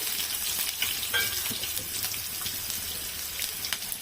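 Onion, cumin and mustard seeds fry in hot oil for a prawn curry, giving a steady close sizzle with crackling spits throughout and a few scraping stir sounds.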